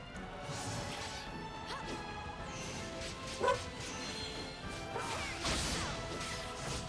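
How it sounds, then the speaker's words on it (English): A dog barks in a video game amid sci-fi action, with loud thwacks and a sharp crash near the middle and game sound effects all around. "Dog's being loud."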